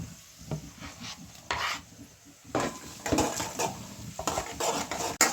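Garlic sizzles in a pan for Gujarati-style sev bhaji as a spoon stirs and scrapes against the metal in irregular close strokes over a soft frying hiss, with no talking.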